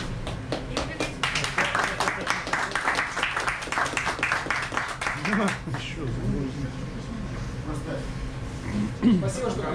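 Audience at a truck festival and truck racing event clapping in a dense burst of applause that fades after several seconds into crowd noise, with a voice talking over it.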